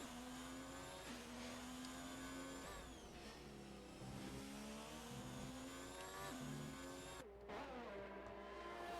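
Race car engine in a racing video game on a flying lap, a continuous high-pitched whine rising and falling with gear changes, loud and close throughout.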